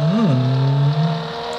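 A car engine in the Gangstar 4 mobile game revs up briefly, the pitch rising and then settling into a steady whine that fades slightly toward the end.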